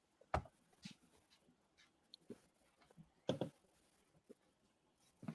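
A dog pants and whimpers in a few short bursts, close by, with quiet gaps between, in a room where an NFL draft broadcast is being watched.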